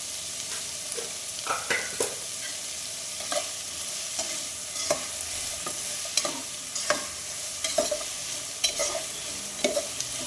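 Tomato stirred into beef curry masala frying in a pan: a continuous sizzle with repeated spatula scrapes and knocks at an irregular pace, close up and without talk.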